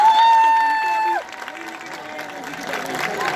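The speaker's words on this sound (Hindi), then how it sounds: "एक बार जोरदार तालियां।" Applause from an audience at a stage performance event, crowd clapping and cheering rising after a sustained musical tone fades, partly mixed with voices.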